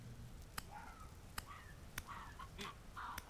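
Chickens cluck in the survival video game Vintage Story, several short clucks and calls spread across a few seconds, fairly faint with a few sharp in-game clicks between them and no talking.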